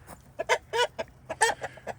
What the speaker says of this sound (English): over here we have 4 layers and 3 roosters.